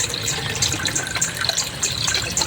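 Water pours steadily out of a dwarf and cherry shrimp tank, a continuous splashing gush with small bubbling bursts at close range, with no talk.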